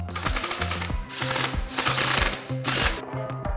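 Car wheel lug nuts being tightened in a star pattern with a power tool, a fast rattling impact driver hammering in several close, loud bursts separated by brief pauses.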